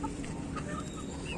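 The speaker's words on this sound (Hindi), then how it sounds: "ये देखिए मुर्गा और ये मुर्गी देखें।" Chickens cluck at a busy poultry market for desi fowl, with short clucks and calls rising over a dense, steady crowd murmur.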